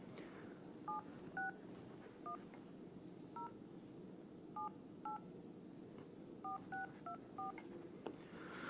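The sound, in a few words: telephone number being dialed, dialing tones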